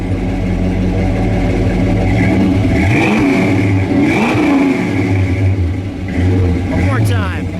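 The 429 V8 in a 1970 Ford Ranchero GT idles with a deep, loping rumble, then swells through two strong revs and drops back to idle, loud and close. People talk nearby.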